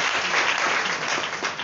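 A church congregation applauding, steady dense clapping from many hands filling the room for a short stretch without pause.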